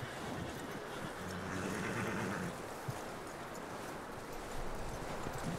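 Horse hooves clip-clop at an easy walking rhythm in Red Dead Redemption 2, quiet and continuous against faint ambient game sound.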